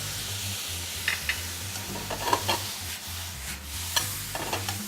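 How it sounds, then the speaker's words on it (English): A shiitake mushroom and pork mixture sizzles in a pan as soy sauce goes in, a soft steady hiss under repeated scraping and stirring clicks, no talking. "I'm going to add some soy sauce"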